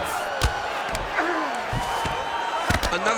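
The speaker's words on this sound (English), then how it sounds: "Oh, good ground and pound here." Ground and pound strikes thud in quick bursts during a CPU-controlled UFC 5 video game bout between Tony Ferguson and Jorge Masvidal, sharp slaps landing over a roaring arena crowd while a commentator talks.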